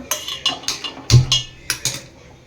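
A frying pan clanks onto a gas stove, a series of sharp metallic knocks and rattles, close and fairly loud, with one heavier thud in the middle and no talking.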